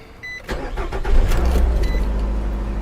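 A Nissan Altima with a cylinder misfire cranks and fires up close by, a few clicks and starter whir giving way to a steady, rough idle rumble.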